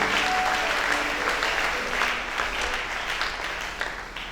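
A church congregation applauds with loud, sustained clapping that fills the room, mixed with scattered voices and cheers, tapering slightly toward the end.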